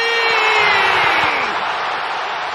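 Stadium crowd at a Portland Timbers versus Colorado Rapids football match, a steady loud roar of cheering voices with whistling tones rising over it, filling the whole stretch without pause.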